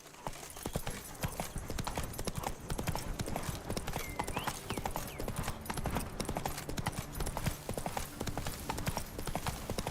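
A horse gallops in The Witcher 3, hooves striking in a fast, rolling clip-clop rhythm that stays close and loud throughout, with game ambience faintly underneath.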